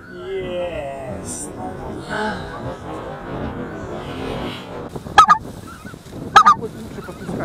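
A flock of geese honks on a goose hunt, with two sharp bursts of calls standing out late over steady outdoor background noise while hunters talk quietly.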